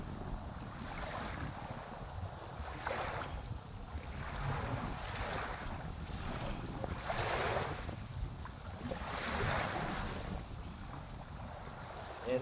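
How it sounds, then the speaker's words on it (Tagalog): Sea waves at rising high tide wash in repeated soft surges against steady wind noise, distant and faint, with no voices. "Tumataas ng dagat. Nagha-high tide na."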